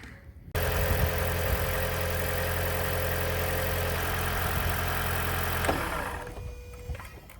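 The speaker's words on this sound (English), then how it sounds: "Let me start the vehicle, run like a couple seconds, and then shut it off" A Toyota Prius engine starts after an oil change and idles with a steady, even hum for several seconds, then shuts off and the sound fades away.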